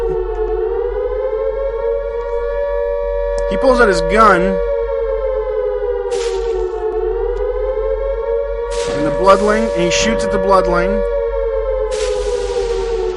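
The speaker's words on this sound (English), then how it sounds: "the sirens go off" A civil defense siren wails without a break in the Space Station 13 video game, a loud steady drone with a slow rise and fall, while someone talks over it in two stretches.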